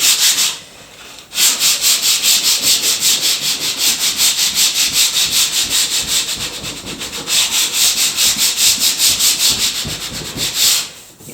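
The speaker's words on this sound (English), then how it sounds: "You always want to sand one direction." Hand sanding of woodwork before priming, a loud close rhythmic scratching of abrasive paper in quick back-and-forth strokes, with a brief pause near the start and another near the end.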